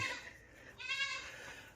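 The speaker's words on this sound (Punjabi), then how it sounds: "ਅੱਜ ਬੱਕਰੀਆਂ ਕੱਢਦੇ ਆ ਬਾਹਰ" Goats bleating in a string of wavering, nasal calls as they are let out on a foggy morning, loud and close with no talk over them.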